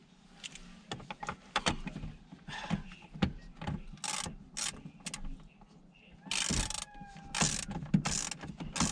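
A ratchet tightens bolts on a Dodge Ram 2500 during a clock spring replacement, giving close, irregular bursts of clicking and clattering mechanical taps. Faint, low voice sounds sit in the background.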